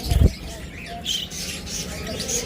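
Caged pet birds such as lovebirds, cockatiels, budgies and finches chirp and twitter at a bird sale, scattered short calls at moderate distance under a man's speech, opening with a brief low thump.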